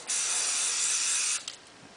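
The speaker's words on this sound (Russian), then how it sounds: "Я распылил, дроссельная заслонка практически закрыта" Carburetor cleaner aerosol sprays onto a car's throttle body in one continuous loud hiss lasting over a second, then cuts off with a short sputter and quiet afterward.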